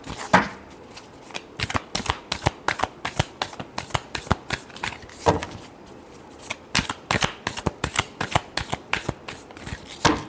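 A deck of tarot cards being shuffled by hand, close and loud, with rapid crisp riffling bursts repeating in quick rhythmic runs and a short pause midway.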